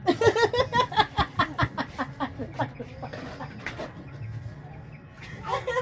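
Chickens cluck in a quick, rhythmic series, loud and close at first, then softer, with some background murmur.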